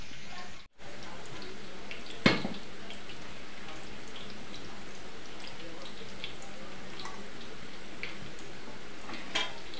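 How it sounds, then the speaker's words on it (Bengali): Potatoes frying in a pan give a steady, even sizzle throughout, with a couple of brief sharp clinks or stirs breaking through near the start and end. "আলু ভাজা হচ্ছে"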